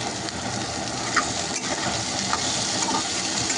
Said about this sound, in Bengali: টমেটোগুলো দিয়ে একটু নেড়ে চেড়ে নরম হলে একটু জল দিয়ে দেবো।